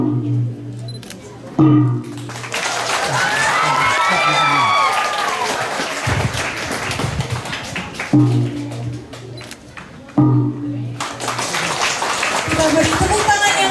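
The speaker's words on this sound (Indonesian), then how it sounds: "Kita beri tepuk tangan yang meriah dan selamat kepada tim sastra yang bukunya sudah dilaunching" Audience at a school book launch for two short-story collections breaks into loud applause and cheering, with speech and noisy crowd sounds between bursts of clapping.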